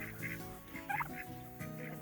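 A blue slate tom turkey gobbles in one short, loud, rattling burst near the middle, set against a steady bed of other fowl calls.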